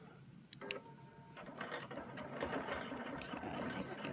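A sewing machine stitches a quilt with a Baptist fan design using circle templates, a steady whirring run starting after a few clicks, close by.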